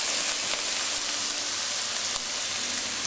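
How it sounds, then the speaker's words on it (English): Onions and garlic sauté in a hot frying pan, a steady dense sizzle that holds evenly throughout with no talking. "Add my onions, because you want your onions sauteed a little bit before you add any of the other ingredients"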